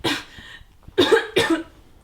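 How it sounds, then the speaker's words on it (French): A few close coughs: one short cough, a pause, then two more harsh coughs in quick succession. "T'as encore toussé."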